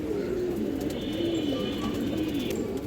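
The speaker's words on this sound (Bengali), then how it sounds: "এই কবুতরটা দেখেন" A pigeon coos softly and repeatedly at a farm of pigeons for sale, its low rolling calls set against steady background noise with a few faint chirps from other birds.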